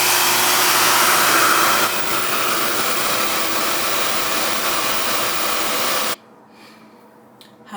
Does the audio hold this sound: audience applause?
no